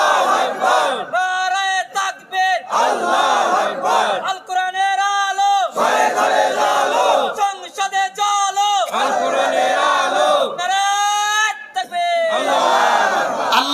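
A crowd at a nighttime gathering in a Dhaka slum chants the takbir together. The loud call-and-response surges come in repeated bursts separated by brief pauses.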